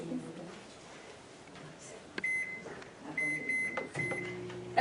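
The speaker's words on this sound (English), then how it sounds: "I'm going to put it in the microwave" A microwave oven warming heavy whipping cream hums faintly and steadily, with a few thin electronic beeps partway through and near the end.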